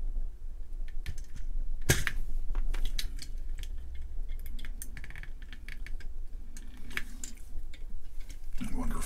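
Keycaps are pried off a 1971 Tektronix 909 calculator, producing a run of small plastic clicks and snaps, one sharper pop partway through, close up with some talking around them.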